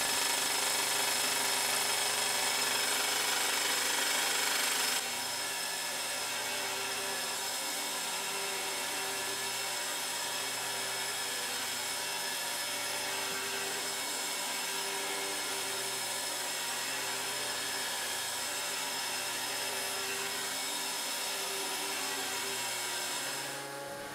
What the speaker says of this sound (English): And now I remove the last parts, still with the bandsaw.